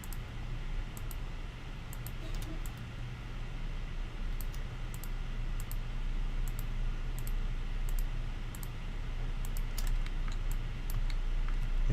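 Steady, rapid clicking of a computer keyboard and mouse, with keys and shift-clicks tapped repeatedly while texturing in Substance Painter, heard close and continuous over a low background hiss.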